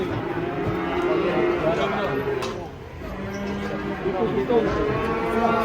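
Large cattle low and moo repeatedly as they are unloaded from a truck for a sacrificial festival, over a busy background with voices of people talking nearby.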